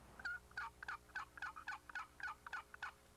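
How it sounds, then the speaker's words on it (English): A wooden turkey box call is worked in a rapid series of about nine raspy yelps, evenly spaced and close, played alone with a faint hum beneath. "The box call is probably one of the oldest type turkey calls on the market today."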